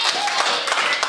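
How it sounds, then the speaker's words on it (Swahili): A church congregation claps together in praise, a dense, continuous patter of many hands close by, with voices mixed in beneath the clapping throughout. "Makofi kwa Bwana."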